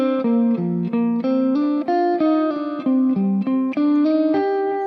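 Distorted electric guitar playing a small minor arpeggio shape repeated back to back, a steady stream of picked single notes rising and falling in even rhythm, close and loud with a slight reverb tail.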